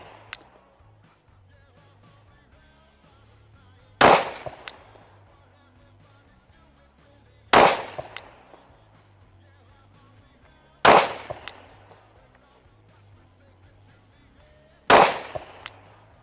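Four rifle shots fired at a target outdoors, each a sharp loud crack with a short decaying tail, spaced roughly three to four seconds apart over quiet background.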